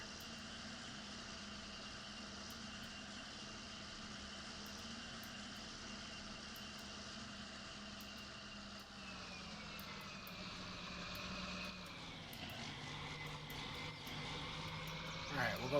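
An old farm tractor bought from a farmer idles and runs steadily in a hay field, its engine drone constant and close, shifting pitch and growing slightly louder near the end as it revs.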